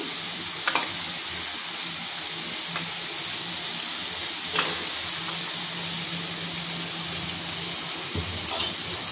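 Soaked lentil badi fry in oil in a pan with poppy-seed paste, for a vegetarian bottle gourd curry: a steady, close sizzle with a few sharp crackles and light clinks from a utensil, and no voices.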